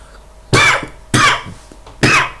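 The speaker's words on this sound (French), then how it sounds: "Bon, là, je tousse." Three loud, close coughs from someone vaping e-liquid, evenly spaced about half a second apart, with nothing else in between.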